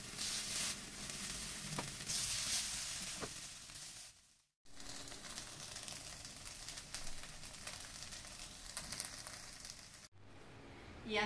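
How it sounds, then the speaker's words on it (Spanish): Zucchini and cornmeal croquettes sizzle and fry in a pan, a steady broadband crackle that carries on throughout with two brief breaks. "dividimos en porciones para llevar a la sartén y las asamos"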